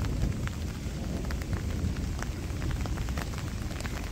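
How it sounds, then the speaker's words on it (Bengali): Light drizzle falls in a rural Bengal village during a storm, a steady soft hiss dotted with scattered individual drops and a low continuous rumble beneath. "ছিটাফোটা ছিটাফোটা বৃষ্টি"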